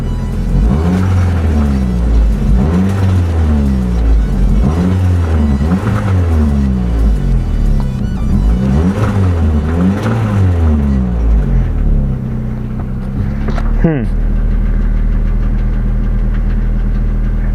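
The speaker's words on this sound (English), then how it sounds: "The belt's slapping a little less now that I revved." A car engine from a salvage auction runs loud and steady with a rhythmic slapping belt, pulses rising through repeated revs before settling into idle with a brief squeal near the end.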